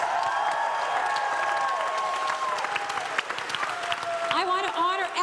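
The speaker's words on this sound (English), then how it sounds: "Clap your hands." Audience applause fills a closing ceremony hall at Mindvalley University 2022: steady, dense clapping from a large crowd, continuous and close, with brief whoops and tonal sounds rising near the end.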